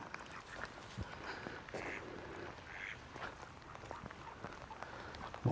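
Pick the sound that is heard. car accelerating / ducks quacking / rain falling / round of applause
ducks quacking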